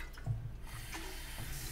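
Tap water runs steadily into a cooking pot at a kitchen sink, a continuous close splashing stream that fills the whole moment with no talk over it.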